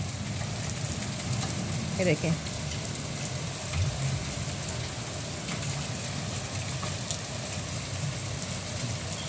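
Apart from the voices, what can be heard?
heavy rain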